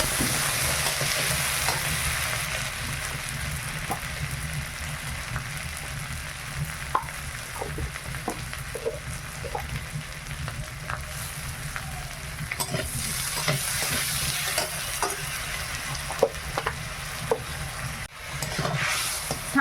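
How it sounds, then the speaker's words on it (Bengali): Potatoes frying with salt and turmeric in a pan, a continuous dense sizzle with scattered pops and the occasional stir, close and steady, with no talking. "এবার আমি আলুটা একটু লবণ হলুদ দিয়ে ভেজে নেবো"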